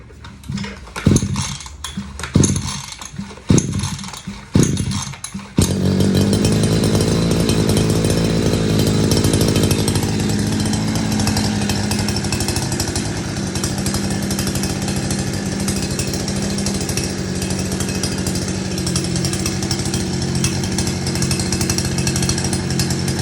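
A few rough sputtering pulls, then a small two-stroke petrol scooter engine catches and runs steadily, loud and buzzy, idling close by.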